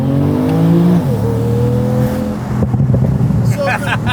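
A Porsche 991 Turbo S, all-wheel drive, accelerates with a steady engine drone and rising pitch, then briefly loses traction with a short tire chirp; people talk over the car throughout.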